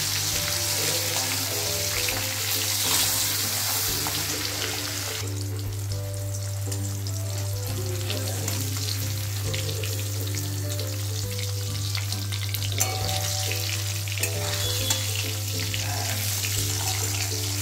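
Hilsa fish fries lightly in hot oil, giving a dense, continuous sizzle and crackle that carries on without a break over a low steady hum, with no talking.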